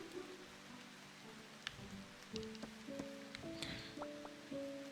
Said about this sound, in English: It certainly is raining.